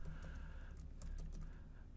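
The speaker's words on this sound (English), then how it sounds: "I'm trying to type in the field." Steady clicking of keys as someone types on a computer keyboard close to a desk microphone, a continuous patter of taps with no talking.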